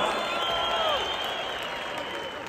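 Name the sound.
audience applause at a wrestling match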